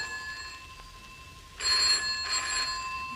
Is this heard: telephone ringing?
yes